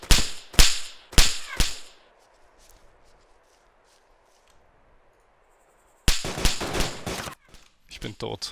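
Gunfire in DayZ, sharp loud cracking shots in quick clusters, a short volley followed by silence and then another burst of close shots, with voices talking at times.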